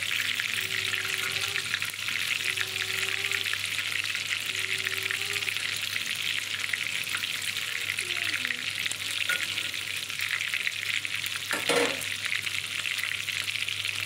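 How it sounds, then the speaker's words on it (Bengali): Chicken pieces frying lightly in hot oil for chilli chicken, a steady close, loud sizzling hiss throughout with occasional faint tonal clinks and one brief sharp knock near the end. "এখানে আমি চিলি চিকেনের জন্য হালকা করে ভেজে নিয়েছি"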